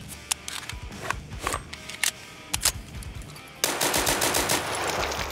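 Rapid, sharp 1911 pistol gunshots in the video game Escape From Tarkov, a string of close, punchy cracks at irregular intervals, followed by a louder burst of noisy clatter.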